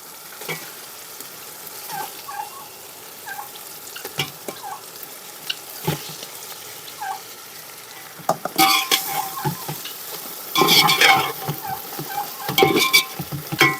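Steady sizzling of chicken frying in a pan for mandi biryani, with occasional stirring scrapes, growing louder and busier toward the end, no talking.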